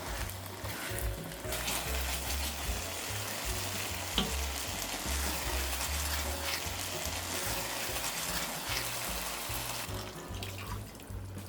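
A pan of seafood saffron rice sizzles steadily and loudly after a splash of wine, with continuous frying crackle and a low bubbling rumble throughout, no voices.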